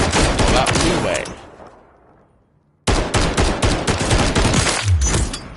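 Rapid automatic rifle fire fitted with a 40-round magazine in Call of Duty, loud and close, with a long burst that cuts off briefly and then resumes as sustained full-auto shooting.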